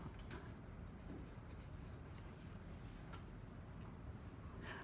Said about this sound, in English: I pressed my charcoal pencil.